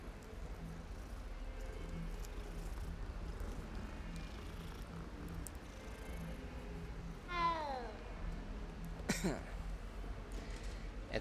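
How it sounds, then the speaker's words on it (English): A cat in a video game meows once when petted, a short rising-falling cry over quiet game ambience, followed by a brief sharper sound. "Ooh, pet the kitty."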